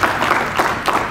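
Applause rises from an audience at a cultural activity for junior assistants, a dense patter of many hands clapping steadily, fairly loud and close.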